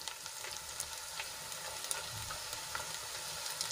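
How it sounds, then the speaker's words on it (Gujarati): Tomatoes sizzle in a pan of golden fried onions, a steady close hiss of frying with light stirring scrapes and no talk. "તો હવે એમાં આપણે ટમેટા એડ કરીશું"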